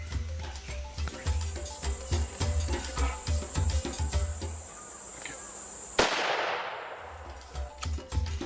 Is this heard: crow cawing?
no